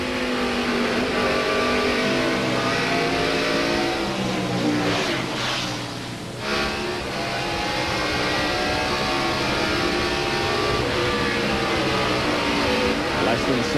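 A 1997 Watkins Glen race car engine heard onboard Mark Martin's car at full throttle, a loud sustained roar with shifting revs, briefly dipping mid-way as it lifts through a corner, then climbing again.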